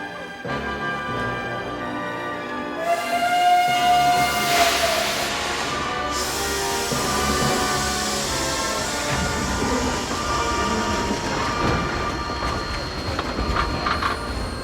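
A steam train rumbles and clatters steadily up close, with a brief high squeal and hissing bursts rising over the continuous mechanical noise.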